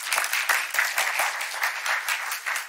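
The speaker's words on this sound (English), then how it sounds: "give him applause" A church congregation claps for Jim Cook in a warm, steady round of applause that stays even and sustained throughout, with no talking.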